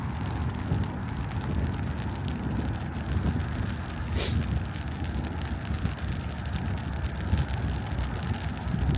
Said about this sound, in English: The wind has just picked up quite a bit.